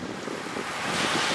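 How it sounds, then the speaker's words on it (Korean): Wind and surf at Samyang black sand beach on Jeju, a steady broadband roar of breaking waves and gusting wind that swells slightly toward the end, with no voices. "바람소리와 파도소리가 듣기에도 시원합니다."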